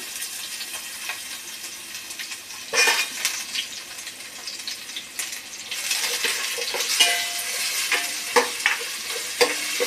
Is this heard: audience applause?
no